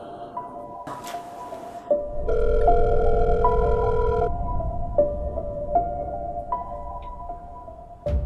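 An electronic phone ring repeats in steady tonal pulses over a low hum, with no one picking up or speaking.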